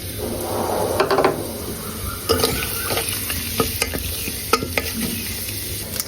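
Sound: cinnamon, cardamom, pepper and cumin sizzling in hot oil

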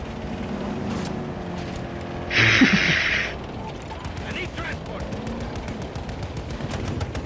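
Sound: gunfire in video game Battlefield 2042

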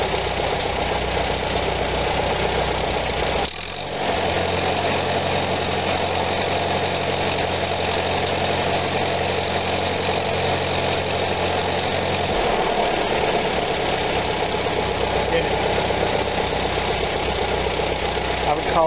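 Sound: 1945 Farmall BN tractor engine running

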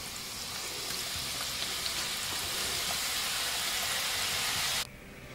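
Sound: wheat flour snacks deep frying in oil

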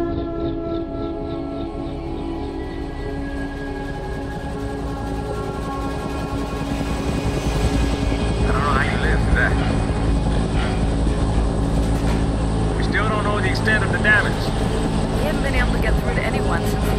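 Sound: helicopter in video game F.E.A.R

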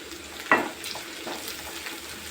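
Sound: egg burji mixture frying in a pan

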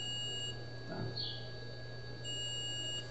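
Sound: multimeter continuity test beeping

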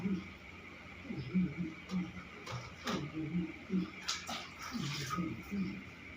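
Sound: water splashing while bathing an elderly woman

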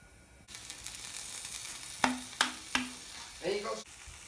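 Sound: toothpaste sizzling on a hot pan

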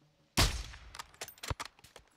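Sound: gunshots in the video game Call of Duty Modern Warfare 2

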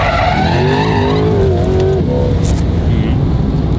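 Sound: Corvette C8 drifting sideways through a corner, tires skidding

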